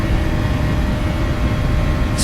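Airliner jet engines at takeoff thrust on a Ryanair night flight, a loud, dense, steady roar with heavy low rumble that fills the whole moment without letup.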